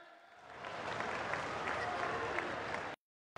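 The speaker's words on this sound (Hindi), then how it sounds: "सभी से आग्रह, जोरदार ताली बजाएं।" Loud applause from a large crowd at a live political rally in Jhabua, Madhya Pradesh, swelling quickly and holding steady for a few seconds before cutting off abruptly.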